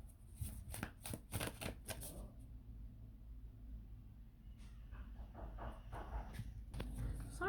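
Tarot cards being shuffled by hand in a rapid burst of crisp riffles and flutters near the start, then quieter handling and soft card movement over a low room rumble.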